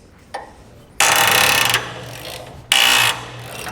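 A ratchet works rusty U-bolt nuts on a trailer leaf spring in two harsh, grinding bursts, the second after a short pause, with faint clicks just before.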